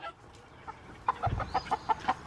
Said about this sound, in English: Here we are, again in the chicken coop. Good morning, baby chickens.